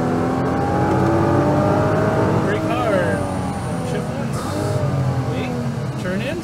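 Nissan GT-R accelerating on a race track, its engine droning loud and steady with rising and falling rev sweeps, while someone talks over it throughout.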